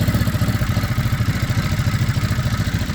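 A 2024 Ducati Monster 937 SP engine idles loudly up close, a fast, even, lumpy exhaust throb with mechanical clatter and no other sounds.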